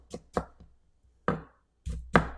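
A sharp kitchen knife chops tomatoes on a cutting board, with quick irregular knocks in two bursts separated by a short pause, close and clear.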